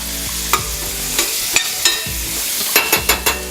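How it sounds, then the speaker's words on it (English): Garlic hitting a hot pan with shrimp and sizzling, a steady close frying hiss broken by several sharp clatters of a utensil stirring against the pan, with no talking. "And in with our garlic."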